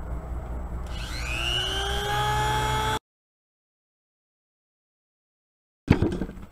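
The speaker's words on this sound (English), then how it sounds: "Take the Dremel, slowly remove material." A Dremel rotary tool grinds wood away from an SKS rifle stock in a steady, close, high-pitched whine for about three seconds, then cuts out to silence before a brief burst of scraping and handling.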